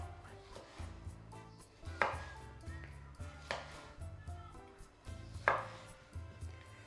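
Knife slicing halved tomatoes into wedges on a cutting board, a steady series of crisp chopping taps with a few sharper knocks against the board, close and fairly quiet with no talk.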